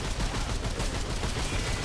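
Rapid gunfire from the video game Remnant 2 rattles on without a break, a dense, loud burst of shots heard up close and alone.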